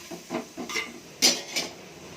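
A spoon scrapes and clinks against a cooking pan as coriander powder and sambar powder are stirred in for a Telugu kaaram burugulu dish, a few separate knocks and scrapes, close up, with no talking.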